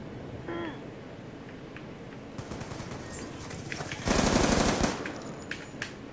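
Gunfire rattles through a Black Ops 2 match, with scattered shots building into a dense, loud burst of rapid automatic fire before trailing off into a few last cracks, among game sounds.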